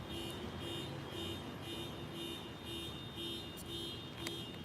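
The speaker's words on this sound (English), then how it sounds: "Oh my god, I hate this car alarm." A car alarm goes off outside on a suburban Los Angeles street, a repeating electronic tone pattern heard faint and steady from a distance.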